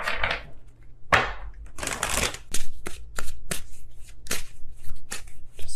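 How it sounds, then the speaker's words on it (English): Tarot cards are shuffled by hand in a series of crisp riffles and soft slaps, then sharp rhythmic taps as the deck is squared, all close and clear with no voices. "If I could shuffle, that would be great."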